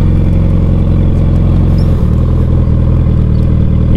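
A motorcycle with a faulty clutch idles loudly and steadily up close, a continuous throbbing engine note with light mechanical clatter and a brief dip midway, no voices.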